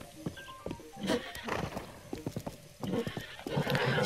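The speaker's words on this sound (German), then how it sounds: "Und wir haben das Pferd von der lieben Zelda." A white horse in the video game The Legend of Zelda: Breath of the Wild, hooves clopping steadily while it whinnies, up close over light ambient background.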